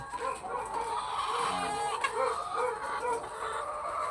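Chickens cluck close by in short, repeated calls over a steady outdoor background, with no talking.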